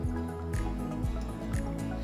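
Milk pours into a cooking pan as a stand-in for cooking cream, coming through as close, wet gurgling drips in quick, repeating glugs with no talk over them.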